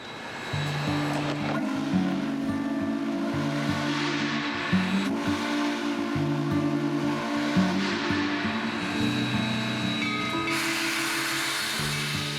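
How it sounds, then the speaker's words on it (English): The 100-year-old steam locomotive 148 departs, sustained low harmonic whistle tones sounding over a steady roar of engine noise, loud and continuous throughout. "With 2 blasts of the whistle and the brakes released"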